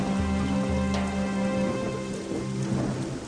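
Steady heavy rain pours on a broken hut in a TV drama, a dense constant hiss with a low rumble underneath, loud and even throughout.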